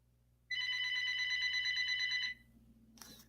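A telephone bell rings loudly in one sustained burst of about two seconds, then cuts off, leaving low background hum and a brief clatter near the end.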